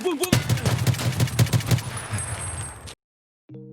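A Kel-Tec RFB rifle in Escape from Tarkov fires a rapid burst of about eight loud, close shots, then a ringing tail fades out, followed by silence and a short mechanical click.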